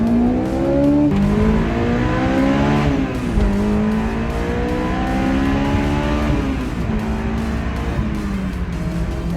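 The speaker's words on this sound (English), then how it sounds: "when you rev this thing up, you'd think you were hurting something" A 1999 Honda S2000 engine with an HKS exhaust revving hard and high past 7,000 RPM, climbing and dropping through several surges, loud and close with a droning growl.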